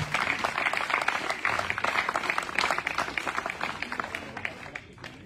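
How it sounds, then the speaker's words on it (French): Crowd applause for ultramarathon runner Martina Haussmann after her 407 km race, a dense sustained clapping that swells and then fades toward the end, with a voice speaking over it. "c'est Martina Haussmann avec 407 km 430 qu'on peut applaudir très très fort"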